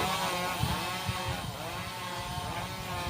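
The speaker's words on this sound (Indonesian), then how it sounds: "Jadi seperti inilah cara mereka mengolah kayu dengan mesin chainsaw" A chainsaw milling tree trunks into measured timber beams for building: a steady, buzzing two-stroke engine drone with slight pitch wavering as the blade cuts, continuous and moderately loud, with no talking.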